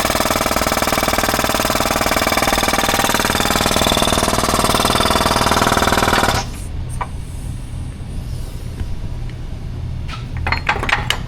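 A vehicle is raised on a lift with its feet centered under the leaf-spring U-bolts. A loud, steady mechanical drone runs for about six seconds, then cuts off, leaving faint metallic clinks and clicks.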